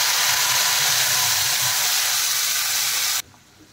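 Ground spice paste with cardamom, cinnamon and cloves hitting hot oil for a chhana dalna, giving a loud, dense, close sizzle that holds steady for about three seconds and then drops off sharply.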